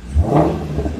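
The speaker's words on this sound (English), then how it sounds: "Rev it." A Shelby 350 engine gives a short, loud rev, a quick rising roar up close that peaks and eases back into a throaty rumble within about a second.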